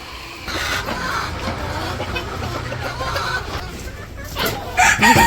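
Chickens cluck and a rooster crows inside a village poultry farm shed, the birds steady and fairly close throughout, with louder crowing bursts near the end; faint talk is barely present underneath.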